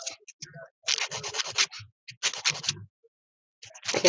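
Acrylic nail tip being filed and buffed along its edge, producing bursts of short dry scratchy strokes separated by pauses, close and moderately loud.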